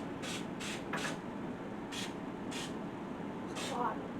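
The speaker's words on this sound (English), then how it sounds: "Spray that over the sink, that way it doesn't go all over everything." Short hissing bursts of cooking spray are applied to a baking pan held over a sink, about six separate spritzes spread unevenly across a few seconds against steady background noise, with people talking in the room.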